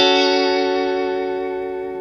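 Guitar strums a single major 13th chord with a swinging, jazzy feel. It rings out close and clear, holds steady, and decays slowly over two seconds with no talking.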